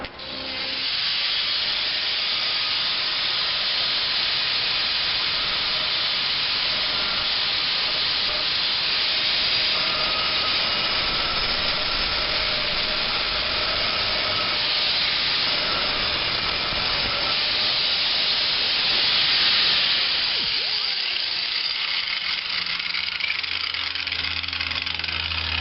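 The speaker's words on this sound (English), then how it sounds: "use the grinder now in a slight angle to finish that" An angle grinder held at a slight angle finishes a freehand curved cut in a glazed tile, giving a loud, steady high-pitched grinding hiss that runs nearly the whole time before cutting off near the end.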